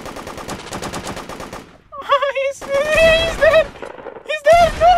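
AK rifle fire in the mobile video game Da Hood: a rapid, steady burst of automatic shots, loud and close, followed by someone talking.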